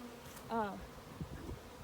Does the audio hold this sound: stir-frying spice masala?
no